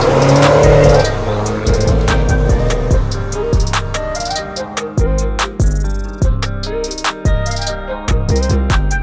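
A BMW F30 diesel fitted with a full Sokudo aftermarket exhaust revs hard, then drops into a series of loud, close, rhythmic bursts and pops as the throttle is blipped again and again.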